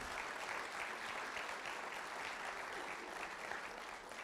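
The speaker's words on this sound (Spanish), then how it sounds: "Dale un aplauso al Señor." Sustained applause from a church congregation during a united worship service, a steady wash of clapping at moderate distance with no break.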